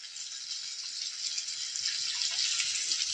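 A steady, hissing stream of tamarind water pours continuously into a pot, close by, with no voices.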